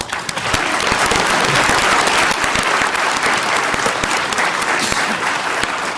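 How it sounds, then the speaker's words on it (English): A commencement audience applauds steadily and loudly throughout, a dense wash of many hands clapping with no break. "But give yourselves another round of applause."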